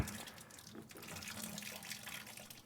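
Water from a dual-boiler E61 espresso machine drains into a sink as a soft, steady splashing trickle, faint and continuous without talk.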